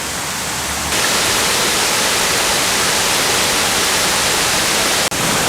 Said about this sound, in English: I believe this is the 37-foot Conestoga Falls. Two-tiered.